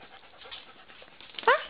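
Soft panting and rustling, then a single short dog whimper or yelp near the end, close by.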